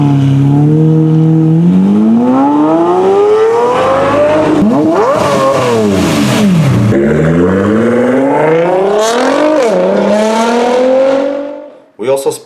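A loud Lamborghini Murcielago engine revs hard, climbing in pitch through several gear changes as it roars past, then cuts off abruptly.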